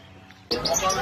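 Small birds at an outdoor bird market chirp in quick, bright bursts that start abruptly after a half second of quiet street hum, moderately close and busy.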